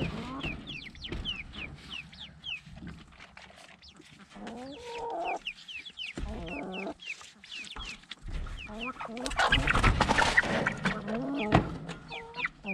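Hens and chicks cluck and peep busily at feeding time as crumbs are scattered for the chicks, with a dense, continuous mix of short calls close by that swells louder toward the end.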